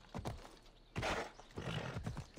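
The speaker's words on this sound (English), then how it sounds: "this horse is kind of edgy" Hooves of Phobos, a horse ridden in Assassin's Creed Odyssey, thud in uneven bursts with a brief whinny-like swell, close and fairly loud.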